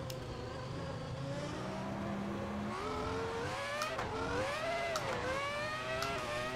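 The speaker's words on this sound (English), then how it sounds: "2004 Formula One car." A 2004 Ferrari Formula One car engine in the racing sim Assetto Corsa revs loudly and continuously, its pitch climbing and dropping through upshifts, with no talk over it.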